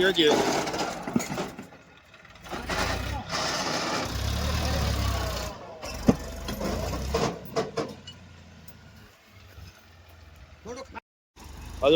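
A tractor engine idles and revs with a mid-pitched rumble on a farm field while a person talks over it nearby, with brief pauses and clatter.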